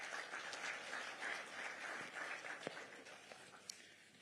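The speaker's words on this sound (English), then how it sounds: "Another big round of applause for Dr." Conference audience gives a round of applause, a faint, distant wash of many hands clapping with a couple of sharper claps near the end.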